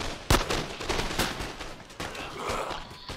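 Enemy troops open fire in Empire: Total War, with a sharp opening musket crack followed by a ragged run of rattling shots and battlefield noise.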